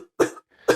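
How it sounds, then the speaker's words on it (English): Two separate coughs, about half a second apart, each a short harsh burst that fades quickly, close and clear against silence. "Oh, there's coughing."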